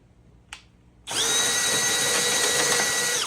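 A power drill bores through the head of a pop rivet during a dry flush toilet slide-out install, starting after a short tick with a steady, loud, close whine that holds for about two seconds before cutting off.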